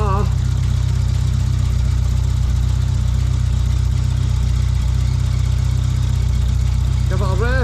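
Vauxhall Nova 1.6 injection engine running at a steady idle, a continuous low hum throughout with voices talking briefly near the start and end.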